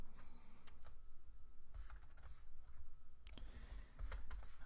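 Light typing on a computer keyboard while an email address is entered into a web form, a quiet stream of soft key clicks with brief pauses.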